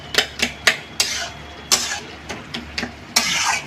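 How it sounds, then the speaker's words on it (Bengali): A metal lid lifts off a cooking pot of simmering cucumber curry, with a series of sharp clinks and taps followed by brief scraping and bubbling sounds, close and fairly quiet. "ঢাকনাটা খুলে দেখি কেমন অবস্থা আছে।"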